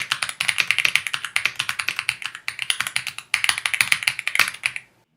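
Continuous fast typing on a gasket-mounted 75% mechanical keyboard with five layers of dampening, a dense run of close, crisp keystrokes with two brief pauses before it stops.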